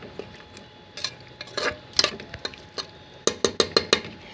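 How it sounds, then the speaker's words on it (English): A spoon stirring rajma khichdi with rajma stock in a pressure cooker, scraping and clinking against the metal pot, irregular at first and then settling into a quick run of five rhythmic knocks, close and alone. "give it a good mix"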